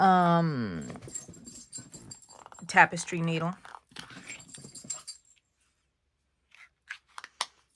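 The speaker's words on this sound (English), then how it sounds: "you need some crazy dogs playing around while you work" Dogs whine and yelp playfully in short rising and falling cries while a person talks nearby and small objects clink.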